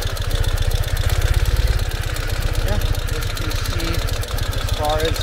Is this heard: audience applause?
no